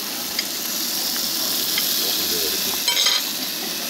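Beef fries in a hot pan with a loud, constant sizzle and hiss, and brief crackling bursts rise near the end.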